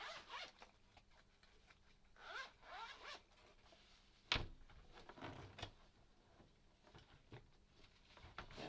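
A small pencil case zipper opens in several quick rasping pulls close by, with a sharp knock partway through and quiet handling noises between.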